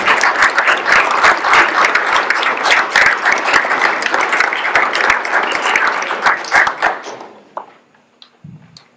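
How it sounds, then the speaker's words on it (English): Audience at a church parish meeting applauds its staff with steady, dense clapping for about seven seconds, then the applause thins out and fades to near silence. "So I just want to do a round of applause for all of our staff,"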